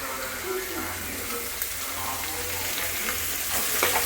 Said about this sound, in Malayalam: സവാള വഴറ്റാൻ